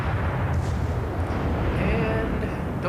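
Booming gunfire rolls out during a naval battle video game, a dense barrage of heavy shots under constant low rumble, with a voice talking over it.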